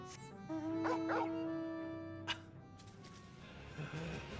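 A dog in a home setting gives a short yip and then whimpering, whining sounds, fairly close and alone, set against a steady background tone.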